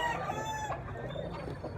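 A bullstag rooster, a big red young gamecock, clucks steadily and close by, its throaty calls repeating without pause over low background noise.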